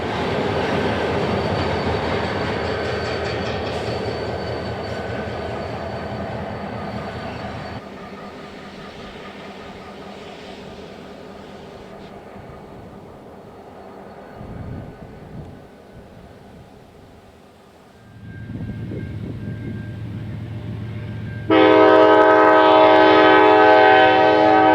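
Freight train led by a wide-cab SD40 and a GP38-2 locomotive in blue and red paint on a Grand Trunk Western line, with a steady loud engine rumble and wheel noise and a sustained horn blast near the end.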